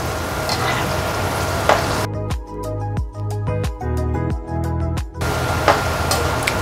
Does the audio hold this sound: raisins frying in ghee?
yes